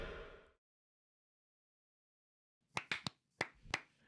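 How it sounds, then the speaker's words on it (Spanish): A few sharp hand claps ring out after a short silence, in two quick clusters, close and crisp rather than a full crowd's applause. "Si quieren un aplauso."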